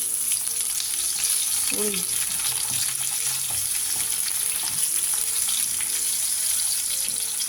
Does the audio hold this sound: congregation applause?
no